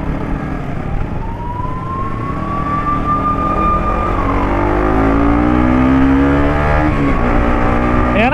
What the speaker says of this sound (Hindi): पीछे ना एम्बुलेंस आ रही है तो पहले से ही साइड दे देते हैं।